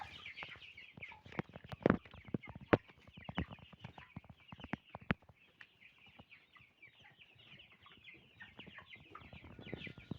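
Flock of 34-day-old Cobb 500 broiler chickens kept at home, clucking and chirping steadily and close by, with a few louder sharp calls standing out over the continuous murmur.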